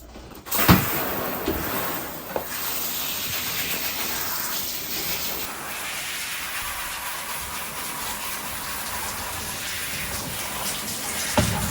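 A 70 lb standard poodle is rinsed in a bath, running water pouring and splashing steadily and close by for the whole stretch, with a few louder splashes near the start and at the end.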